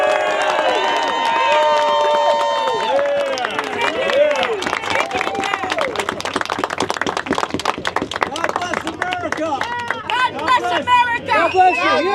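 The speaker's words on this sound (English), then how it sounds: "Let's give a great standing round of applause to all of our Republican candidates." A crowd gives a standing round of applause for Republican candidates at a campaign event. Loud clapping and cheering run through the whole stretch, and voices and babble mix in with it.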